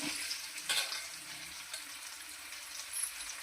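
Squeezed, salted bitter gourd pieces fry in a spiced oil tempering with a soft, even sizzle and a few faint stirring bumps, fairly quiet throughout.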